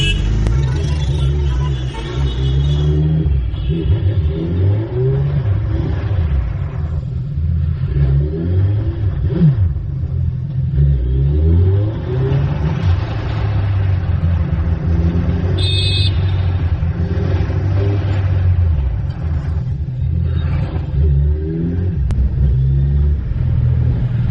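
A Suzuki Hayabusa motorcycle engine runs and revs repeatedly on a test ride after a full service, rising and falling in pitch as it accelerates, loud and close throughout.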